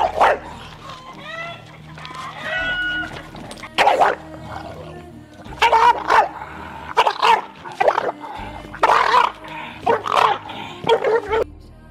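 An English Bulldog barks in loud, repeated bursts close by, with whimpering yips between them.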